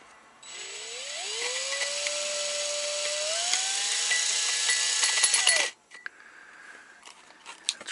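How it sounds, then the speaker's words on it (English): A power drill spins a bit into metal on a dump valve, a sustained high whine that rises in pitch as it bites, running about five seconds before cutting off to quiet clicks. "I'm going to try just to use the drill bit."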